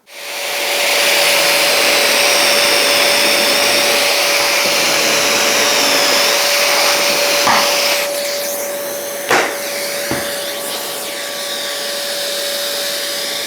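A router running in a UJK Parf Guide System jig cuts dog holes, a loud steady motor whine heard close and alone, with a couple of brief knocks near the end as the cut finishes.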